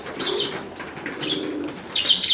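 Arabian tumbler pigeons near their loft give soft, repeated cooing calls, with faint wing flutters and quiet bird sounds close by and no speech.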